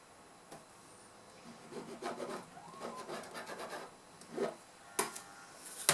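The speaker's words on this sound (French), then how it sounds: "Et je vais découper ces petits carrés." Scissors cutting small 4 cm fabric squares from the corners of a sewn fabric bag, a series of quiet close rasping snips and rubs, louder toward the end, with no talking.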